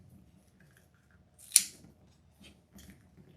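Close scissors make one sharp snip through white deco mesh for a wreath, followed by faint rustling of the mesh and a couple of softer handling sounds.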